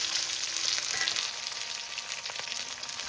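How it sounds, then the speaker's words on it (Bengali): Large-cut onions frying in a pan, a dense continuous sizzle heard up close with no voices. "এবার পেঁয়াজটাকে হালকা একটু ভেজে নেব"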